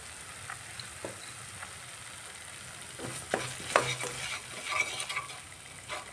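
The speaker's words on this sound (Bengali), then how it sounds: "এবার পরিমাণ মতো লবণ দিয়ে আমি মশলাটা ভালো করে কষিয়ে নেব।" Spice masala with salt, chilli powder and bay leaf is stirred and sautéed in a pan, a low steady sizzle with scraping spatula strokes that grow busier and louder toward the end, no speech.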